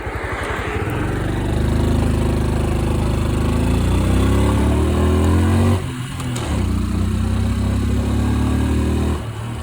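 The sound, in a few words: Honda Super Cub small motorcycle engine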